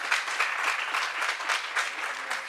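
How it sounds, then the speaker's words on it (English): An audience at a RIPE NCC farewell meeting claps together, a dense, even patter of many hands at moderate volume with no speech over it. "We'll pass on those applause to her when we get there"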